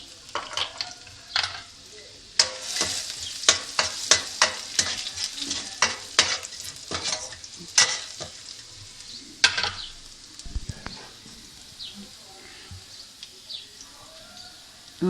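Cumin seeds sizzle and crackle in hot oil in a pan, heard as a run of sharp pops and spits that thin out over about fifteen seconds, with faint chirping in the background.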